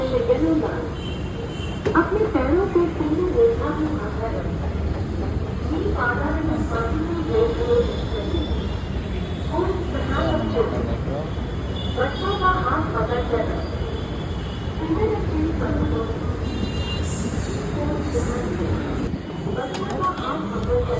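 Rumbling metro train noise at a station, with steady rail and wheel sounds, some squealing, and people talking nearby throughout.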